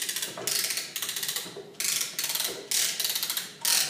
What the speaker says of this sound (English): Then you start ratcheting.